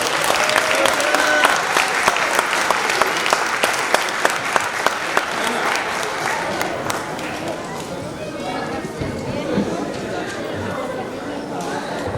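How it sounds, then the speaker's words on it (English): A board meeting audience applauds a group of students with dense, loud clapping that fills the room. Scattered chatter runs underneath, and the applause thins out toward the end. "Let's give them all a round of applause."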